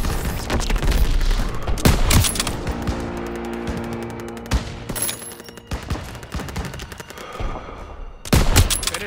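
Heavy anti-aircraft gunfire in Call of Duty WW2, loud dense bursts of rapid shots with booming impacts and a hectic battle mix, peaking at the start and again near the end.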